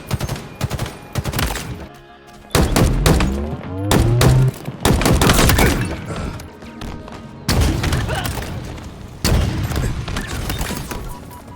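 Rapid bursts of weapon fire from the shooter game Halo Infinite in its closed beta, loud repeated volleys with heavy thuds and booms, stopping and restarting in several separate clusters with no talk.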